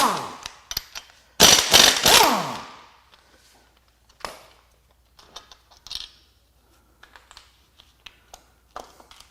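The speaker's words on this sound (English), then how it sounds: "Next, we're going to unbolt the cam gear." Cam gear being unbolted from a GM 6.2 L87 V8 during an engine teardown: a loud two-second power-tool burst, then scattered metallic clinks and taps close by, with no talk.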